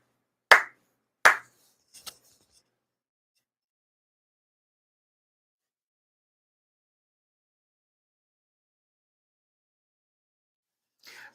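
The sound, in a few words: congregation clapping four times in ceremony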